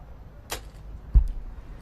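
Arrow striking an archery target's centre in a compound men's gold-medal final, a single low, close thud after a brief whoosh of flight, with faint crowd ambience around it.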